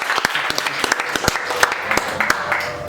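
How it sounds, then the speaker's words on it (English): An audience applauds in a dense stretch of clapping with sharp individual claps standing out, with a voice faintly underneath. "Big round of applause."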